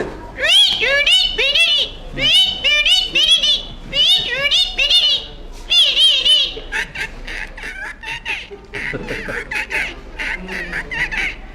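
A person imitates a parrot, giving repeated shrill squawking calls in rhythmic bursts, then a series of rapid chattering, whistly sounds.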